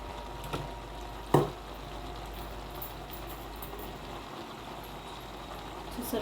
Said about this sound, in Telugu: అన్నీ వేసి వేయించుకోవాలి